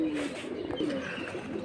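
Pigeons coo softly at a pigeon market selling fancy breeds, a few low, drawn-out coos surfacing faintly over quiet background murmur.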